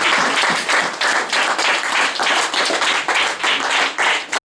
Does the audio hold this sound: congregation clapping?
yes